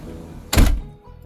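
Door handle on a guesthouse door lifted to lock it, a single solid thunk of the latch mechanism, close and fairly loud, with a faint softer click just after.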